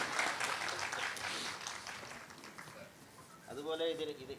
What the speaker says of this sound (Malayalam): ഉത്തരം ശരിയാണ്, ഒരു കയ്യടി കൊടുക്കാം